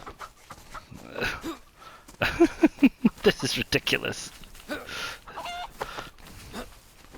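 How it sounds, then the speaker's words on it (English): Chickens clucking in DayZ on the Livonia map, a rapid run of sharp repeated clucks in the middle with scattered squawks around it, heard under and between a man's speech. "Like I said, these chickens got harder to catch."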